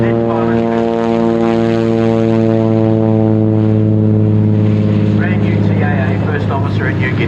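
Propeller engines of a Douglas DC-3 on floats at an airshow run in a steady, loud drone with a strong low hum, heard close and constant throughout.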